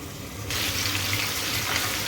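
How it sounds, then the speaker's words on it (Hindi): Bell peppers (capsicums) frying in a pan over a medium-high flame, a steady loud sizzle that jumps sharply in strength partway through and then holds as a continuous hiss with no talking. "मीडियम टू हाई फ्लेम पे मैं इनको फ्राई कर रही हूँ।"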